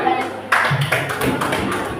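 Classroom clapping during a group lesson, a short burst of hands clapping together at close range that rises abruptly and continues steadily, with no talk over it.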